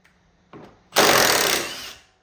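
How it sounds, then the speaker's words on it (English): An impact wrench with an 18mm socket rattles off a strut mounting bolt on a 2025 Mustang GT: a short blip, then about one second of loud, close, continuous hammering buzz that stops abruptly. "take an 18mm socket and an impact and remove these two strut mounting bolts"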